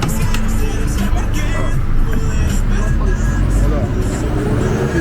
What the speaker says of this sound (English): Right guys, we're in the bus now.